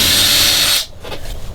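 A 1/2 inch drill bit powered by a drill bores into a classic Boston Whaler Montauk boat during console mounting, giving a loud, steady whine for most of a second before it cuts off and faint handling noises follow.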